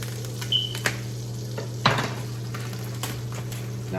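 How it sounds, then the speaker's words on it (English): Butter sizzling steadily in a hot pan before ground beef goes in, a soft continuous crackle under a low hum, with a few sharp clinks of a utensil against the pan. "this is the sizzle I was looking for from the butter."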